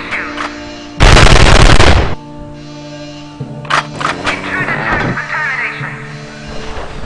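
Gunfire in Evil Genius, a loud sustained burst of automatic fire lasting about a second, then scattered quieter shots and clatter over game music.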